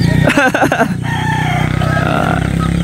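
A rooster crows loudly and close by, one drawn-out call.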